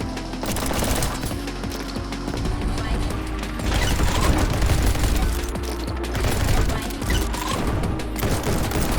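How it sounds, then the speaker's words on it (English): Gunfire in the video game Neon White: a dense, loud, continuous stream of sharp shots and mechanical clatter layered over driving game music, close and relentless. "Shoot that guy 3 times"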